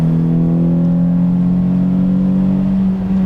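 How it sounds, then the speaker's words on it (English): A Toyota Matrix XRS engine hums under throttle, a steady loud drone with a strong low tone that holds nearly level for a few seconds, heard from inside the car with no talking. "the sound of the engine is excellent"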